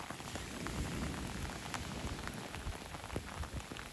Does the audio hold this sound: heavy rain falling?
yes